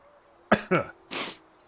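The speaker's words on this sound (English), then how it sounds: "Coughs a little bit." Two short, fairly close coughs in quick succession, followed by a breathy throat-clearing sound, with quiet background otherwise.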